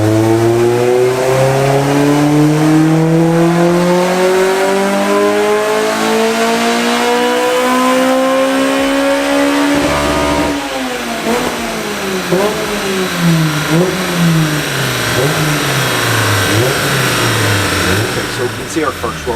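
A Honda DC2 engine without VTEC or VTC working revs steadily up on a dyno base run, a loud rising drone that then falls into fluctuating throttle blips as the run winds down, with a voice talking over it.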